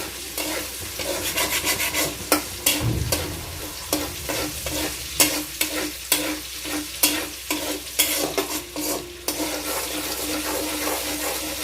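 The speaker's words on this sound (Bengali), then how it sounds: "এটা এবার একটু ভাজা ভাজা হবে।" Chopped garlic, ginger and green chilli fry and sizzle in oil for sarson ka saag, with a steady hiss and repeated sharp scrapes and taps of a spoon stirring the pan close up.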